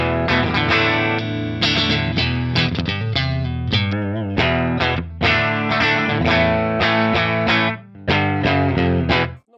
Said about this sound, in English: Now give a little presence and the effect of the room.